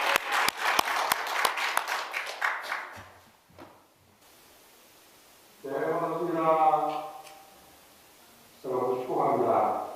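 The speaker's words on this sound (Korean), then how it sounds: "우리 뜨거운 격려의 박수로 맞이하겠습니다" Clapping from a lecture audience at a Korean church-run history academy welcomes a pastor lecturer, a dense burst of claps for about three seconds before fading, followed by someone speaking over quiet room tone.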